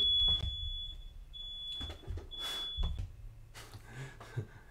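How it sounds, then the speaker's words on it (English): Smoke detectors going off during home cooking, a sharp high electronic beeping tone sounding in repeated bursts of varying length, close and loud, over low room rumble and household noise. "we have these annoying smoke detectors that go off"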